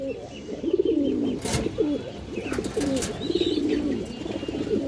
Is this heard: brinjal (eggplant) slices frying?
no